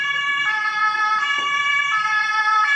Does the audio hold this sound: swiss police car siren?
yes